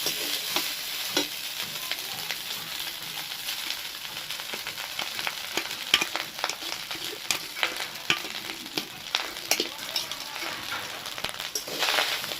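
Cumin and whole spices crackle and sizzle in hot fat for jeera rice, with a constant close hiss broken by sharp pops and occasional stirring scrapes, and no talking.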